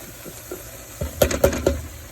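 Beans tipped into a hot pan with bacon, diced onion and bell pepper: a few soft taps, then a burst of sizzling with several sharp clattering hits close by.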